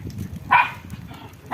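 A dog gives two short, sharp barks about a second apart over a low background rumble. The barks are fairly close, and no one speaks.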